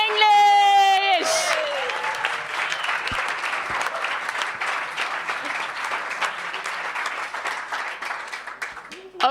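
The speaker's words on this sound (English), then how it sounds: "give her an extra applause for leaving her comfort zone and pitching in English." Sustained audience applause fills a startup pitch event hall after a presenter's final pitch, dense clapping steady and loud throughout, with a brief voice at the start before the crowd takes over.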